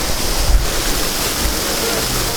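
Waterfall heard from behind the falling water in Slovenia, a steady, loud, broadband roar of cascading water with low rumble, continuous and close throughout.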